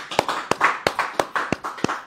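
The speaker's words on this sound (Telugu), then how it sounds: "ఇలాంటి చప్పట్లు కొట్టాలరా బాబు ఈ అచీవ్మెంట్కి" Hands clap in a steady rhythm, about eight sharp, close claps spaced evenly apart.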